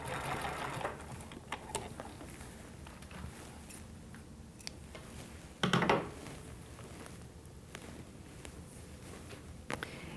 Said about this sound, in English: I want to show you how we can also attach this binding by using the serger.